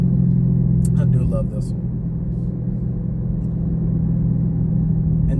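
A Dodge Charger 392 Hemi engine rumbles low and steady just after a downshift, heard from inside the car under a person speaking.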